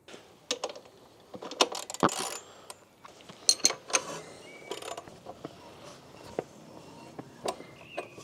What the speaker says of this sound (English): Now we are going to loosen the rear axle nut